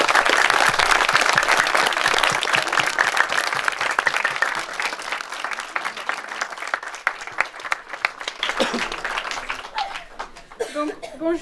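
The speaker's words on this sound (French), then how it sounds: "en vous demandant d'applaudir très fort ces jeunes et tous ceux qui nous ont aidés" A crowd at the inauguration of a youth centre claps loudly and steadily, the applause thinning toward the end with a few scattered claps and some chuckling.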